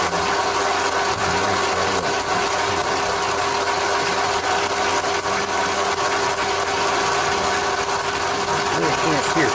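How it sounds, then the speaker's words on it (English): A lathe takes a light boring cut, about a thousandth, in the seal bore of a 1972 Ski-Doo Rotax go-kart part, giving a steady machine whine and hum that runs continuously under faint background noise. "we'll take a bore cut and get this other side out to size for the bearing in the race"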